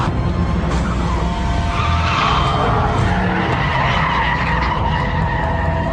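A Mitsubishi Lancer Evolution skids on a test run, loud continuous tire squeal and engine roar close by, sustained without pause and with no talk.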